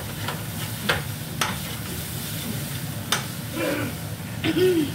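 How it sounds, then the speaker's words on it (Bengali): Ground cumin and coriander sauté in a pan with a soft, constant sizzle, broken by a few sharp scrapes and clicks of stirring. "জিরে ধনে গুঁড়ো তার সাথে দিয়ে একটু ভালো করে কষিয়ে নেবো, কাঁচা গন্ধটা যেন চলে যায়।"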